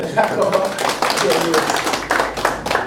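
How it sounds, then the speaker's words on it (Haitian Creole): A crowd claps steadily throughout, loud and close, with voices mixed in among the applause, at the outdoor inauguration of a drinking-water network in Côtes-de-Fer. "On applaudit."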